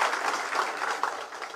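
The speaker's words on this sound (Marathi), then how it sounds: "आपण जोरदार जरा टाळ्या वाजवून त्यांचं स्वागत करावं।" A crowd at a political party gathering claps to welcome new party members, producing a short, dense burst of steady applause with no talk over it.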